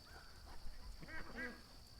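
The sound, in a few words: duck quacking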